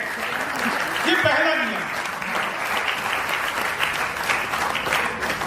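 Audience applause at a Hindi comic poetry gathering, a dense continuous clapping that runs beneath a voice speaking over it throughout.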